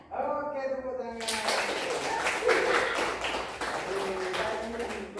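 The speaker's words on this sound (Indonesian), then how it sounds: "Oke, tepuk tangan." A class of students claps briefly after a teacher's remark, a burst of quick overlapping handclaps that rises suddenly and continues over a mix of children's and adult voices talking.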